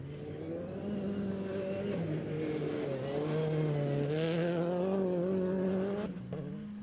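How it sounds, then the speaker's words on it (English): A Toyota Starlet rally car at the 2023 Algoa National Rally roars steadily with its engine climbing through the revs, loud and close, then abruptly drops off near the end. "Nico Swartz need to do is keep it tidy and bring the Toyota Starlet home in one piece to take overall honours in the Algoa National Rally"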